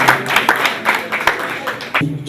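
A slam poetry audience gives brief, scattered applause: uneven claps that come and go over a couple of seconds, with murmured voices underneath.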